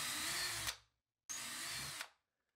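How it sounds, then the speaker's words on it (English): A power drill makes pilot holes in a wall for mounting an Ethos big home battery, heard as two close, loud, steady whirring bursts of under a second each with a brief pause between them, and no talk. "so I can get my drill through here and get these pre-drilled"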